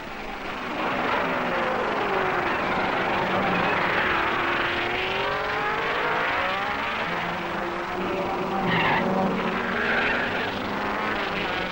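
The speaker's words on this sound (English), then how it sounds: "Passing the starting grid, it's still Ginther, Moss, and Bonnier's Porsche" Formula 1 race cars at the 1961 Monaco Grand Prix, including a Porsche, roar past on the street circuit, a loud sustained engine drone with rising and falling pitch sweeps as cars pass by close.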